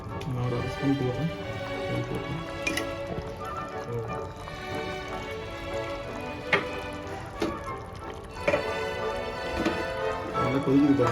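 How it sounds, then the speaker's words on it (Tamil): Garlic curry bubbles and sizzles as it boils in a pan throughout, with occasional clinks of a utensil and a voice talking in Tamil over the cooking. "நல்லா கொதிக்குது பாருங்க."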